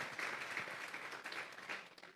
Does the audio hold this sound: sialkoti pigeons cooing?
no